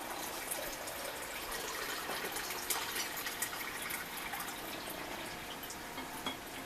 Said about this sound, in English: and I'm going to pour around the jars.